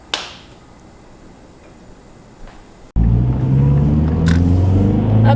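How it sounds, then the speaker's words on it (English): A Mazdaspeed3 fitted with a new rear motor mount, heard from the cabin on a test drive: a quiet hum for about three seconds, then a loud, steady engine drone and road rumble takes over and holds to the end. "this is my first test drive with the rear motor mount in"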